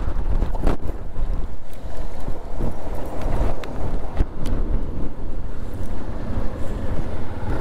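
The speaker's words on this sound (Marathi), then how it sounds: "फारच जोराची हवा इकडे चाललेली आहे" Strong wind buffets a microphone at Khandala ghat in the Western Ghats during a motorcycle ride, a loud, constant roaring rumble with gusty thumps and no talking.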